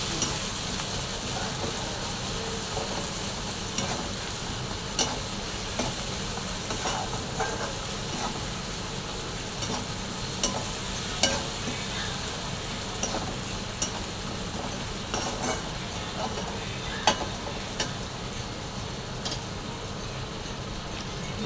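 A spoon stirs red chilli masala into a cauliflower curry in a hot pan: a dense, even sizzle runs throughout, dotted with scattered light scrapes and clicks, with no voices.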